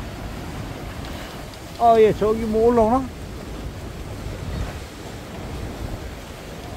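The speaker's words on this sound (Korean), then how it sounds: "파도가 물속에 잠겨있는 바위를 두들겨 패네요" Steady surf rumbles and washes close by as waves crash against submerged rocks on the coast at Gonghyeonjin, Korea, with a voice speaking briefly over the churning water.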